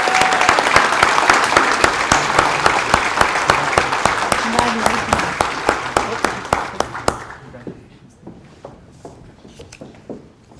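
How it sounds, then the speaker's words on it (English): Loud, dense applause fills the hall at an employee recognition and awards ceremony, steady for about seven seconds before thinning to a few lingering claps and fading out. "Let's give them another round of applause."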